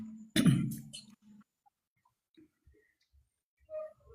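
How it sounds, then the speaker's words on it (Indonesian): A single person coughs up close in a short loud burst near the start, followed by near silence with a few faint clicks and a soft sound at the end. "Malahnya bapak batuk mah"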